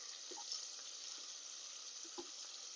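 Onion sautéing in hot oil for homemade paneer pulao, a steady high sizzle with a few soft clinks and stirring taps, no talk.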